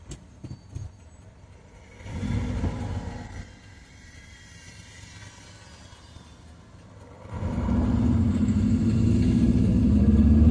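A Ford Zephyr V4 car drives out on a sunny day, its engine giving a low rumble that swells briefly, drops back, then grows into a sustained louder drone near the end, no talking.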